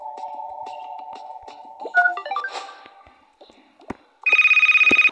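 A mobile phone in the Toca Boca video game plays a bright electronic ringtone, with a series of game beeps and tones before a pulsing ring near the end.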